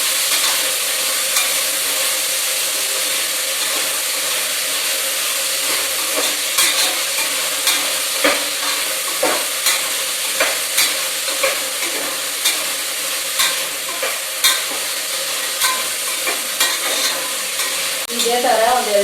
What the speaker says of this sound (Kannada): ಇದೇ ಥರ ಒಂದು 2 ನಿಮಿಷ ಫ್ರೈ ಮಾಡ್ಕೋಬೇಕು